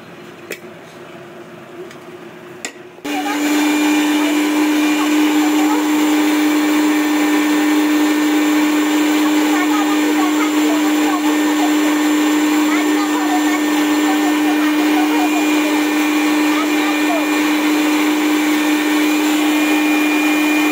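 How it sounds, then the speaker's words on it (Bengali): A mixer grinder grinds ginger and cumin for khichuri spices. It opens with a few seconds of quiet, then the motor starts and whines loud and steady, with a strong fixed hum, until the end. "চলুন আদা জিরেটা আমি একটু বেটে নিয়ে যাবে চট করে।"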